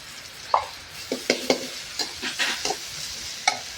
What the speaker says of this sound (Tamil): இப்போ தக்காளி போடுறேன்